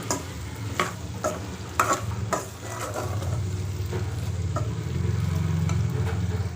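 Okra (bhindi) frying in a pan while a spoon stirs it: sharp scraping strokes over the first few seconds, then a steady, fairly soft sizzle that builds slightly toward the end.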